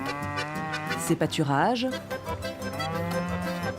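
Cattle in the Argentine countryside, with one cow giving a long, loud, close moo that rises and falls mid-clip while someone speaks over the scene.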